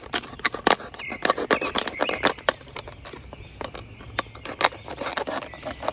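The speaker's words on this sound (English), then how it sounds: "I'll start from about right here and cut straight down." Sharp, rapid snipping and crackling of a plastic water bottle being cut open, a dense run of close, loud clicks and crinkles with no talking.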